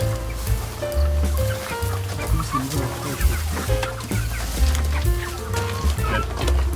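Several hens cluck and chatter continuously inside a small chicken house on a permaculture farm, overlapping calls near and steady throughout, with no talking.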